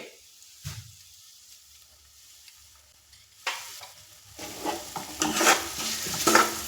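Spiced mung bean mixture with turmeric and salt frying in a pan while being stirred, faint at first, then a growing sizzle with scraping stirs and clatter toward the end, no talking.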